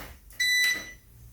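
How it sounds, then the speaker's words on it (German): A Klarstein Brauheld Pro 45 brewing machine gives one short, high electronic beep as it is switched on, with a faint click nearby and no voices. "Piept er kurz und startet hoch"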